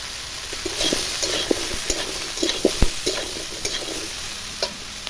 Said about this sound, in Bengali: আর ওইদিকে সবজিগুলো ভাজা হচ্ছে।